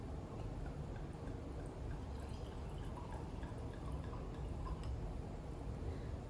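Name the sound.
pouring Noble Vines Chardonnay white wine from a bottle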